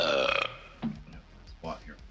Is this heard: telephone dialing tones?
no